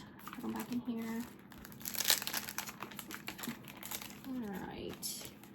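Crayons and sticker sheets being picked up and put back into a container, with crinkling and rattling handling noises coming in bursts close by while someone talks over them.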